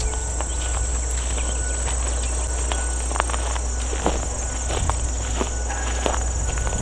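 Grasshoppers flying along a power line in open country, heard as a constant high insect buzz with scattered sharp clicks and crackles at irregular intervals, nearby and alone without any voices.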